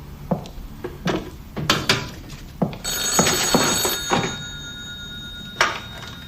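A telephone bell rings in a short electronic burst in the middle, surrounded by scattered close knocks, clinks and thuds, with no talking.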